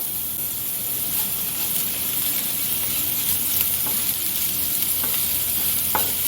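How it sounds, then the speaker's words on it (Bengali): Finely chopped garlic, ten cloves, and half an inch of shredded ginger sauté in hot oil in a pan for a honey chilli tofu. A steady, close sizzle runs throughout, with a few soft stirring scrapes near the end and no talk. "রসুনের কাঁচা গন্ধটা চলে যাওয়া পর্যন্ত হালকা সতে করে নেব"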